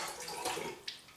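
Ice water is poured into a measuring cup for pastry dough, a soft brief splashing trickle at close range, fairly quiet with a small clink near the end.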